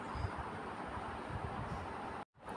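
A passenger train running from Palakkad toward Pollachi rumbles through Vanchi Maniyachi station in Tamil Nadu, a steady loud rolling roar of wheels and carriages that briefly cuts out near the end.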